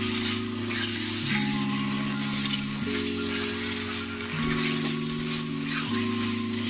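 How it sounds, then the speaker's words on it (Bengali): Alu posto, potatoes in poppy seed paste with green chillies and sugar, frying in a pan: a steady, close sizzle runs throughout with occasional stirring, over a faint background hum. "আমি যেহেতু শুকনো শুকনো করব তাই আমি আরেকটু ভেজে নেব"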